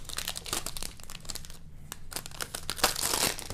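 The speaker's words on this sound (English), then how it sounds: "Let's go ahead and pull off all the plastic." Plastic wrapping being yanked and crinkled off a new Asus Transformer Prime keyboard dock, loud close crackling bursts and tearing rustles in quick irregular bouts with a brief quieter pause partway.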